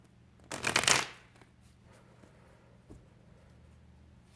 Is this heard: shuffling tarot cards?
yes